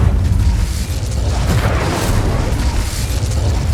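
Incendio fire spell cast in Hogwarts Legacy: a continuous loud, roaring whoosh of flame with crackling bursts, dense and close, sustained for the whole moment.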